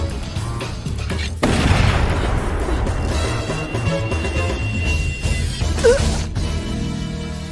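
A huge gun fires a single shot in the anime Hellsing Ultimate, a sudden heavy boom that cracks out after a quiet moment, then a lingering crash and rumble layered with background score.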